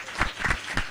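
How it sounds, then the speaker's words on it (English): An audience at a youth debate claps in a short, close burst of several sharp, uneven claps. "No, clap like you think you will win."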